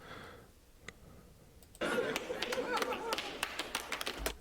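A single person claps repeatedly in a divorce court setting, sharp irregular claps that start abruptly midway and continue alone over faint background murmur.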